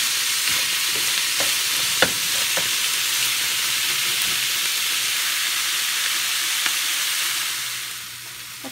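Onions fry in a pan for nachos, a continuous hissing sizzle with a few soft clicks and scrapes of stirring, near and alone, easing off at the end.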